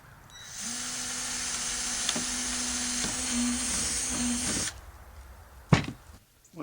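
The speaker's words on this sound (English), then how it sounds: "you're going to drill another hole" A power drill bores a hole through a homemade Christmas star ornament, giving a steady high whine for about four seconds before cutting off, followed by a single sharp knock.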